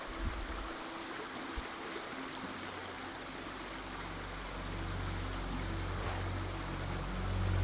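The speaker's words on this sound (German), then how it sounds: "Die Steine werden von dem sauren Wasser umspült." Acid water washing over stones in the video game A New Beginning, a steady rushing flow with a low rumble that swells louder toward the end, with no voices.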